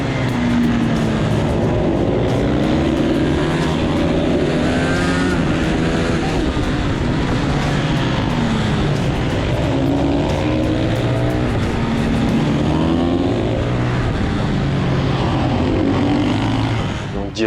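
Supermotard motorcycles at a French championship race start in Lohéac, engines howling together at high revs, loud and sustained from close on board, with pitch rising and falling through gear changes.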